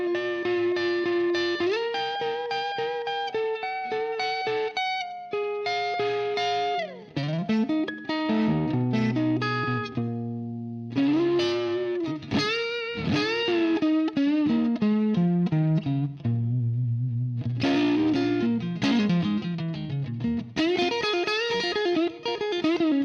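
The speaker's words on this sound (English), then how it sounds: "picking dynamic totally translates into this fuzz and translates into the amp" Electric guitar through a Sabbadius JIMI Fuzz v2 pedal into an amp, playing a fuzz riff: thick, distorted sustained notes and bends with changing picking dynamics, loud and continuous with no talking.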